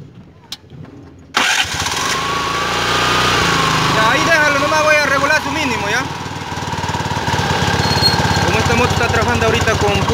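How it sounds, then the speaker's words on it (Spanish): A TVS King motorcycle engine kicks to life after a brief quiet moment, just reassembled after a head gasket change for low compression, then runs loudly and steadily, revving up and down a few times. "Vamos a prender la moto, ya terminamos a armar."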